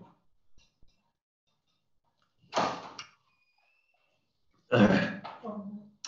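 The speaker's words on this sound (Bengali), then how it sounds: "সরি, আমার একটু কাশি হচ্ছে।" Two harsh coughing bursts a couple of seconds apart, the second louder and followed by a throaty rasp, with quiet room tone between.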